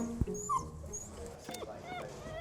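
Puppy whimpering in a kennel overnight, a few short high whines and yips, close, with quiet talk and rustling around it.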